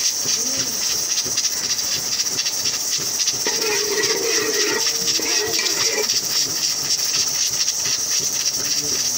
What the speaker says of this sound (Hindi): इसमें करेले फ्राई कर लेते हैं।